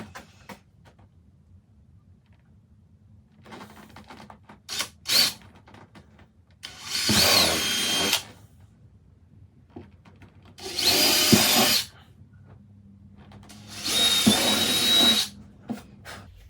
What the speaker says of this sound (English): so I can get on top of this with the drill.